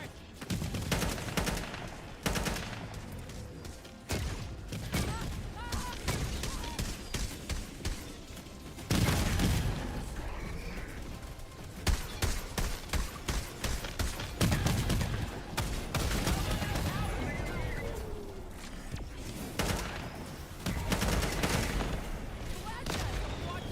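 Gunfire in a video game, heard while being shot at: dense bursts of loud rapid shots and fusillades close by, broken by short gaps, with voices talking between volleys.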